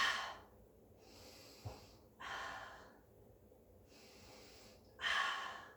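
Slow, audible breaths during a mat pilates exercise, with long airy inhales and exhales in alternating swells and a stronger breath at the end, close to the microphone.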